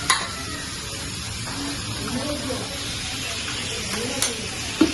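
Cabbage thoran stir-fried in a pan: a steady sizzle with stirring scrapes, a few sharp clinks of utensil on metal near the start and end, and faint talk in the background.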